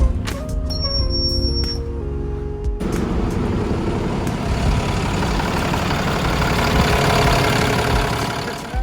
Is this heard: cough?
no